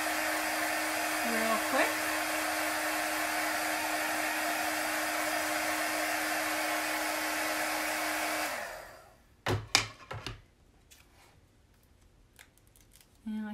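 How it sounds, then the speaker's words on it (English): A hair dryer blows steadily on chalk paste applied over a stencil on a snail-shaped home decor piece. After about eight seconds it cuts off, followed by handling clicks and rustles and a brief spoken remark. "Just blow drying it so the chalk paste dries"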